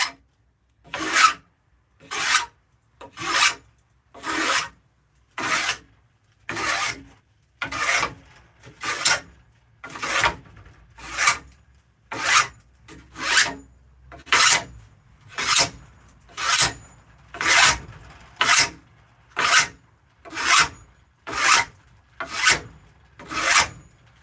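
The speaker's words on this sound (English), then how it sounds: "Might have to rasp it." A hand rasp files a wooden spoon in a long, steady series of about twenty rough strokes, each one a close, even grating rasp through the wood, with no talking.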